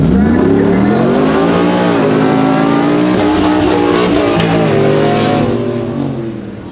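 A 2011 Ford F-150 EcoBoost pickup and a Chevrolet pickup with a 6.0 engine launch side by side down a short 225-foot drag strip, engines roaring loud and close with rising revs through the pull before easing off.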